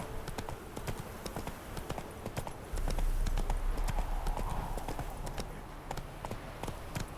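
Roach, a horse in The Witcher 3, trots with a brisk, steady clip-clop of hooves, close and clear against a low ambient rumble, with a few faint background sounds.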